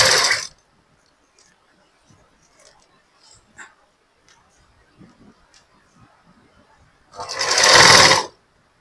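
A sewing machine stitches lehenga lining in two short loud bursts at the start and end, whirring close up, with quiet handling noises and faint shuffling between them.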